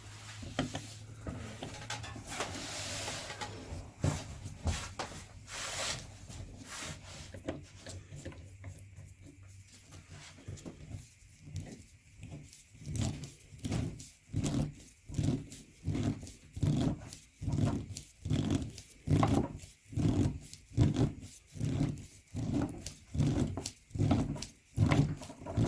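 A used Fram XG3593A oil filter from a 2000 Honda CR-V being cut open, starting with muffled scraping and handling noise, then a steady rhythmic grinding rasp of the cutter working around the metal can.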